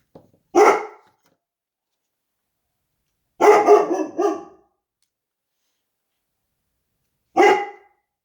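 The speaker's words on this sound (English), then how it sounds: "I'm not even sure what he's barking at now" A dog barks in three separate bouts with long silent gaps between them, the middle one a quick cluster of several barks.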